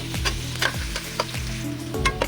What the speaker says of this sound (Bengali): চুলায় একটি প্যান বসিয়ে এতে পরিমাণ মতো তেল আস্ত মশলা আর সামান্য কুচি করা পেঁয়াজ দিয়ে হালকা ভেজে নেবে